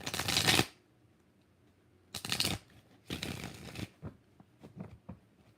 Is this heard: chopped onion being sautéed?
no